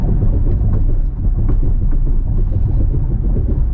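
A loud, continuous low rumble of a 2025 Chevrolet Corvette E-Ray rolling over train tracks, with dull thumps and road noise filling the whole stretch.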